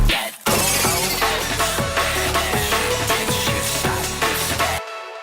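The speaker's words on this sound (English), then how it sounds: "now the glass break is way more violent" Violent glass break effect: sharp repeated shattering crashes in a rapid rhythmic sequence, loud and dense with bright debris, ending in a sudden cutoff.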